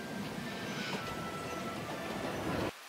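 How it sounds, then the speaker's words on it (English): A tram rumbles past nearby in the Demon Slayer anime, with a steady low roar and faint squeal of wheels, cutting off abruptly near the end. "Tram."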